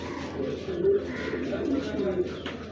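A large male pigeon, an original local-ringed bird, coos in a low, repeated rumble over a few seconds, fairly close, with people talking around it.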